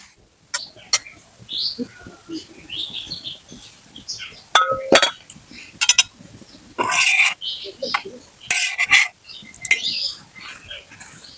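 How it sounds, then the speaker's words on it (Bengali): A lid set down on a cooking pan while a snack is being made, giving brief metallic clinks and clatters among scattered kitchen noises, close by with no talk. "এবার আমি ঢাকা চাপা দিয়ে দিলাম"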